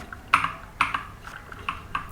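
Computer keyboard keys tapped in short bursts while entering commands in the Neovim editor, with about five crisp, moderately close clicks spaced unevenly and no talking.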